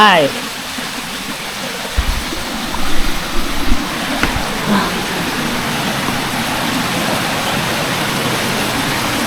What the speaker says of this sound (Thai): น้ำตกธรรมชาติจริงๆ ไม่มีใครเข้ามา